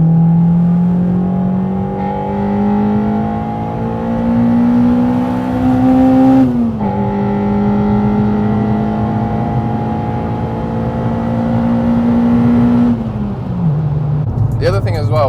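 Honda Civic Type R EP3 fitted with a Spoon N1 exhaust revs loudly and steadily, its note climbing in two long pulls with a brief dip between, then dropping off at the end, heard close up with no one talking over it.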